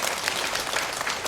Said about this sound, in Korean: 격려 박수 보내주시기 바랍니다